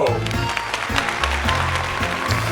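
Short burst of clapping from a group, mixed with a voice speaking over it.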